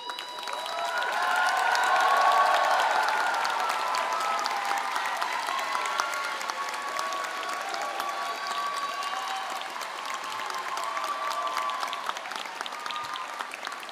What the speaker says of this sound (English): I invite you to again thank parents, husbands, wives, partners, significant others, relatives, and friends who made this all possible with your applause.